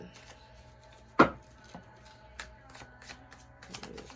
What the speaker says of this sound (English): So let's pull some cards and see what's going on.